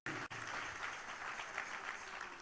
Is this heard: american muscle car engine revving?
no